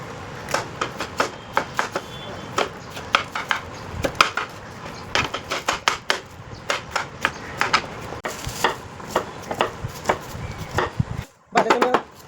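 Rapid, rhythmic knife chops through green beans (farasbi) on a cutting board, crisp close taps repeating steadily with a brief pause near the end, in a catering kitchen.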